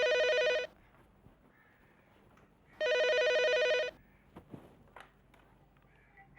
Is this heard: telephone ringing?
yes